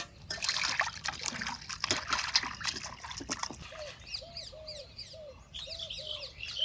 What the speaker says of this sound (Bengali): ওদিকে মাংসগুলো আমি পরিষ্কার করে ধুই